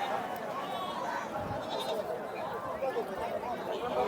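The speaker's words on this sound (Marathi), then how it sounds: "त्याचबरोबर मेंढ्या सुद्धा आपल्याला या ठिकाणी पाहायला मिळत आहेत" Sheep bleat now and then through the steady chatter of a busy crowd at a livestock market.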